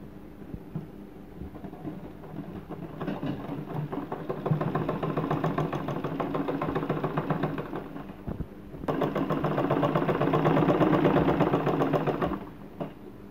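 A sewing machine stitches kameez fabric in a rapid steady mechanical whir, running in two longer bursts separated by a short pause, near and moderately quiet with no talk.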